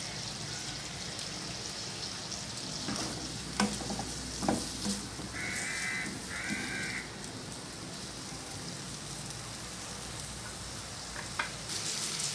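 Onions with curry leaves lightly sautéing in a pan for baingan bharta, a steady soft sizzle like light rain running throughout, with a few faint stirring clicks, quiet and even.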